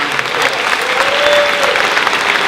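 An induction ceremony audience breaks into loud, close, continuous applause honoring high school students, a dense wash of clapping with faint crowd murmur.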